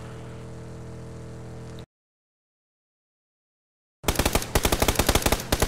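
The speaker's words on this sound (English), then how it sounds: "No, shotgun! Shotgun!" Gunfire in the PUBG video game, with a steady drone cutting to silence, then a loud, rapid burst of repeated shots firing in quick succession.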